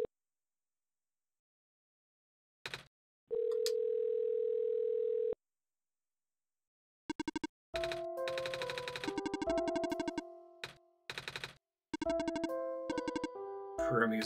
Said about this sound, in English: because you can hear the dial tones, right?